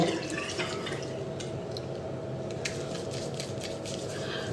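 Water splashing and dripping as a face is rinsed again, soft wet patters and drips close by, quiet and continuous with no speech.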